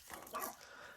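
A single short bark or yelp from a dog, moderately faint and brief, with little else around it.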